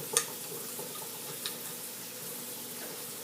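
Chopped onion fries in a hot pan with a steady, soft sizzle and hiss, quiet and even throughout, marked by a couple of faint clinks.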